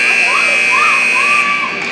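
A loud, sustained electronic end-of-period buzzer blares steadily over crowd noise in an arena at a BC Lightning game, with a faint announcer's voice underneath.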